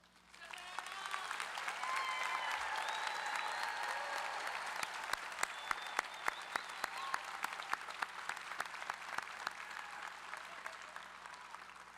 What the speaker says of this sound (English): Please give our graduates a final round of applause.